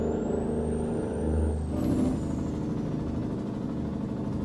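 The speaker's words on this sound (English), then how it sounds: "This truck is slowing down." A heavy, underpowered cabover truck hauling a very heavy load in American Truck Simulator slows down, its engine droning low and steady as a hissing air-brake release rises near the middle.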